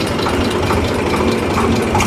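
A tractor engine idles close by with a steady, rough low rumble and a faint knocking pulse, continuous and even throughout, with no talk.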